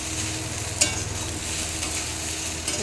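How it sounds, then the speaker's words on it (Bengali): Steady sizzling of food frying in a pan with black pepper powder and spices, with light stirring scrapes and a sharp clink early on. "একটু ভালো করে ভাজা ভাজা করবো।"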